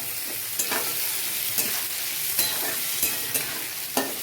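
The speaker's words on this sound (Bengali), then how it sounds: "এবং এটা আমি একটু চিনি দেব, একটু নুন দেব এবং ব্রাউন করে ভাজবো" Chopped onions with green chillies, sugar and salt fry steadily in a pan for a braised meat dish, a continuous close sizzle broken by regular scraping stirs about once a second, with no talking.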